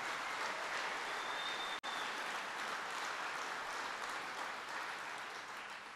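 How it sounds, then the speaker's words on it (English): Audience applause and clapping fills a political rally speech in Cedar Rapids, Iowa, a steady dense roar of hands that runs the whole stretch with one brief dropout and slowly eases toward the end. "And even Terry's clapping about that one"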